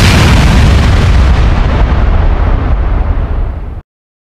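An atomic bomb explosion roars as a loud, continuous, rumbling blast that sustains for nearly four seconds and then cuts off abruptly.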